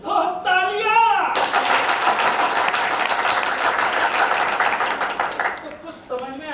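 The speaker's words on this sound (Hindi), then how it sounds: "तो तालियां।" After a stage play, Talash Ghar Ki by Yuva Natya Manch in Damoh, the audience breaks into loud, sustained clapping for about four seconds, then fades as a voice resumes speaking.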